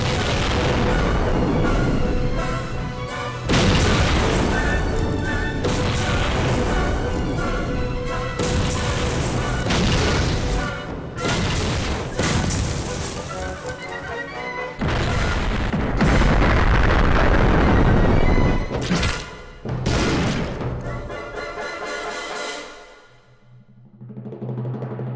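In a video game, a rapid barrage of loud booming dynamite and grenade explosions, one after another for a long stretch, dense and heavy, before fading out near the end.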